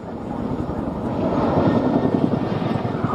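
A Chinook twin-rotor helicopter flying a 315-degree spiral descent during an RAF display at an international air day gives off a loud, steady rotor and engine roar that builds slightly as it goes.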